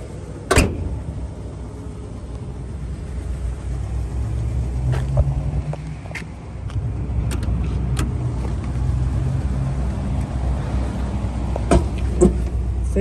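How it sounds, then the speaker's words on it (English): A 1961 Chevrolet Impala with about 60,000 original miles idles steadily, a low even rumble close by, broken by a few sharp clicks and knocks around the car and no speech. "Motor sounds good. No squeaks or rattles, no noisy valves."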